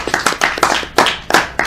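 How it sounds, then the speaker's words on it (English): Close, sharp hand claps from people at a Colorado flat-tax campaign meeting. The bursts repeat in an uneven rhythm of a few distinct claps. "I think Douglas is deserving of a huge round of applause of those people who are still here."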